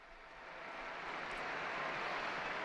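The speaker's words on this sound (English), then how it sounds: "Peter's Square respond with cheering." A large crowd in St. Peter's Square cheers after a papal blessing, heard as a distant, diffuse roar that swells steadily over a few seconds and stays faint, with no clear voices.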